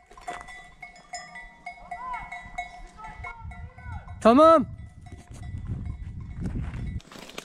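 Bells clank and tinkle from a herd of goats being followed on foot through rural land, with a sharp bell clang and bleat-like calls mid-clip, while a person speaks briefly nearby.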